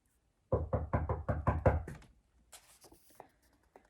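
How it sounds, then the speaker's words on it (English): Seven firm, evenly spaced knocks on a wooden door, close and loud, followed by faint rustling and quiet. "She used all her muscles to knock on the door."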